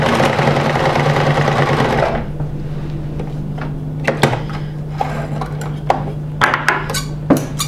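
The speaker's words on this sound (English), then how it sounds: "we have to just sew the two pieces together" Sewing machine stitching two fabric pieces together for a peasant top's neck facing, a steady close whirring run for about two seconds, then stops, followed by scattered clicks and handling of fabric and tools.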